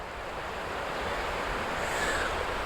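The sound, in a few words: water flowing over rocks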